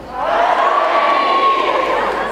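An audience at a group cosplay stage show at the Leipzig Book Fair 2006 calls out a greeting and cheers together, a loud, dense crowd roar with one voice drawn out above it for about two seconds.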